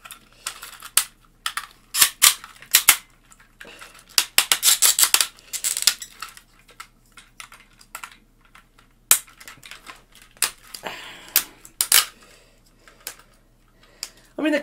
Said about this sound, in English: as you can hear, nice clicky ratchets